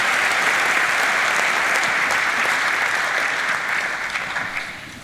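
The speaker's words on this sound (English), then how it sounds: "a round of applause for Dr. Frank Smith" Steady, dense audience applause at an evening panel event celebrating Black History, loud and even throughout before tapering off slightly near the end, with no voices standing out.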